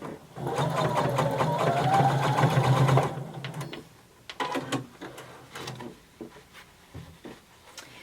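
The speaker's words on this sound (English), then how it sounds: "using 5/8 of an inch, you're going to sew all the way around" A sewing machine stitches around a denim jeans pocket at a 5/8 inch seam. The close, loud, steady mechanical hum runs for about three seconds, then stops, leaving scattered handling clicks and knocks.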